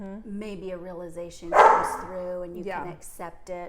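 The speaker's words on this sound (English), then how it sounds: "Apologize for the dog in the background." A dog barks in the background as a person speaks, one or two sharp barks partway through a calm stretch of talk.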